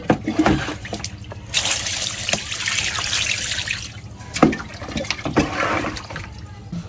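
Cut fish pieces being rinsed in water, with steady running and splashing liquid sounds, tap-like flow rising and falling over several seconds, close by, with faint background noise.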